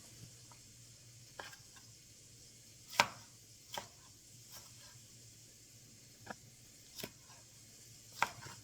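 A knife chops bell peppers on a cutting board for a black bean and veggie soup, with sparse, irregular single cuts spaced about a second apart, crisp but fairly quiet against a low steady room hum and no talking.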